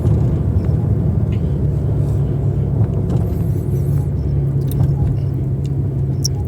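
A sports car drives along a road behind a police car, its engine and tyre noise a constant low rumble heard from inside the cabin for the whole stretch.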